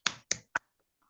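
Three crisp finger snaps in quick succession, close and clear, given as applause for a poet at a poetry collective, followed by near silence.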